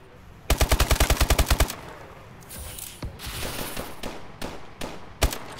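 Rapid automatic gunfire in a search-and-destroy video game match, a loud burst of about a dozen evenly spaced shots, followed by scattered quieter game noise and a sharp single shot near the end.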